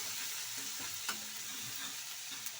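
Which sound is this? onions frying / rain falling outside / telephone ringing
onions frying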